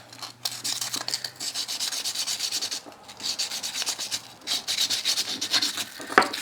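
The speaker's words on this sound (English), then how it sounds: "Sanding inside edge" Steady rasping strokes of sanding on the inside and outside edges of a metal jewelry frame setting, continuous and close, with brief pauses between passes and a small click at the end.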